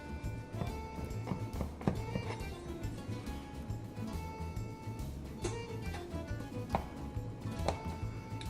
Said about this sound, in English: So what I'm gonna do is I'm gonna cut a slice.